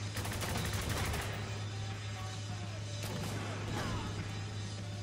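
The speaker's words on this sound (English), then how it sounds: "Anybody else want to mess with my grenade launcher?" A grenade launcher fires in the video game Spec Ops The Line: sharp blasts stand out over a dense, noisy battle din, with a few distinct bangs later in the stretch.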